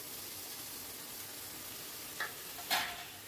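A spoon stirs fried okra into a cooked-down masala over a medium-high flame. Faint, steady sizzling runs throughout, with a couple of brief scraping clinks near the end.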